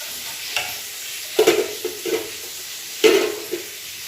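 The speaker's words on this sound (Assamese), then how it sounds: "ভালদৰে মিক্স কৰিম।" Egg and a little milk being stirred in a sizzling pan, with a soft frying hiss throughout and several distinct scraping strokes of the spoon against the pan, no talk.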